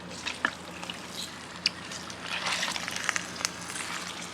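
Lard melting and sizzling in a pot outdoors, a soft continuous frying hiss with occasional small pops and crackles, steady and moderately quiet.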